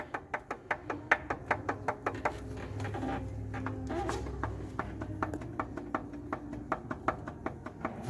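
A piston is rocked by hand inside a stripped-down 2017 UAZ Patriot engine that knocks under load, giving close, sharp metallic taps in a steady rhythm of about three per second over a low background hum.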